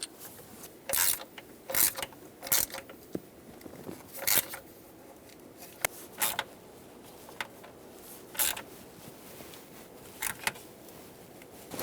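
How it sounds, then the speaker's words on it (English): A hand ratchet clicks in irregular quick bursts while tightening coarse-threaded 7mm-head screws on the intake manifold of a 1999-2016 Ford E-350 5.4L V8, close and fairly quiet with no talking. "get those coarse threaded 7mm headed screws, drop them down and tighten them up"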